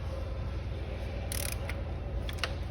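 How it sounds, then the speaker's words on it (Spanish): Timing chain tensioner slipping in an Audi Q7 engine with low oil pressure, a steady mechanical whir with a few sharp metallic clicks and a jump, close by. "El tensor aprieta, pero de golpe luego vuelve a saltar."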